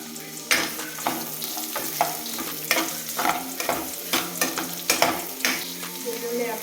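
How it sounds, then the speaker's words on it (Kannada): Onions frying in about two spoons of hot oil with popped mustard seeds, a steady bright sizzle broken by repeated scraping stirs of a spoon against the pan, close and fairly loud with no talking. "ಈರುಳ್ಳಿ ಹಾಕಬೇಕು."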